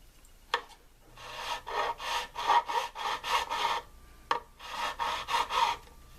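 A file rasping back and forth across the frets of a mandolin during a fret job, a series of quick, rhythmic strokes in two bursts, close and fairly quiet, with no talking.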